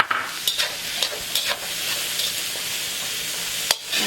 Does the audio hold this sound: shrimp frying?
yes